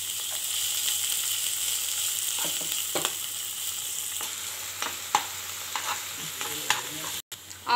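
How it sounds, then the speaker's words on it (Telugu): Chopped onions, green chilli, ginger and curry leaves frying in hot oil for veg manchurian, a steady close sizzle broken by occasional scraping stirs, with no talk. "ఆయిల్ అనేది కూడా వేడైపోయింది మనం ముందుగానే కట్ చేసుకున్నవన్ని దీంట్లో వేసుకొని సిమ్ లో"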